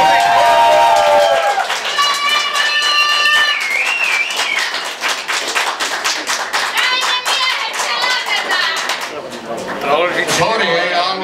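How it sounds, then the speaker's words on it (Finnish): A crowd claps rapidly and steadily for the winner of a porridge-eating contest, with voices calling out over the applause. "Nyt isot aplodit"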